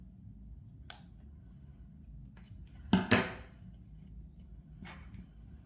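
Scissors snip through crochet yarn in a few sharp cuts, a faint one early, then a louder double snip near the middle and a light one near the end, over a quiet room hum.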